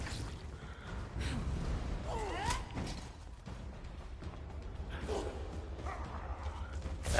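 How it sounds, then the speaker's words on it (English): A dog barks and yips in the video game ESO (Elder Scrolls Online), several short calls scattered over a dark ambient game backdrop, moderately loud, with no talk. "That dog."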